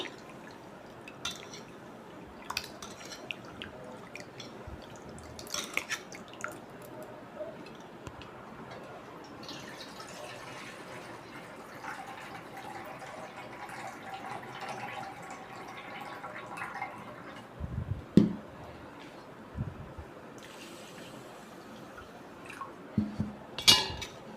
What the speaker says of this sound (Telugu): ఓ త్రీ టైమ్స్ కడగాలండి శుభ్రంగా వీటిని